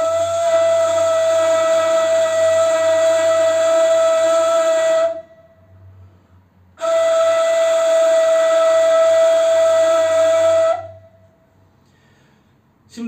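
Two long, loud breathy ney flute tones played with strong blowing, each held steady for several seconds with a strong airy edge, separated by a brief pause.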